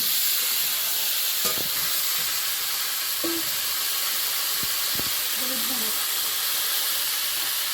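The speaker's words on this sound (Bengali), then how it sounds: "এর মধ্যে একটু পেঁয়াজ কিছু দিলাম পেঁয়াজটা হালকা ভেজে নিয়ে" Onion lightly frying in a pan gives a steady, close, broadband sizzling hiss throughout, with a few brief clicks of stirring and faint voices in the background.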